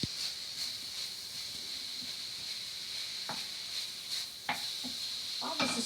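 Pad thai with green onions stir-frying in a pan, a steady close sizzle with scattered scraping clinks of a utensil stirring.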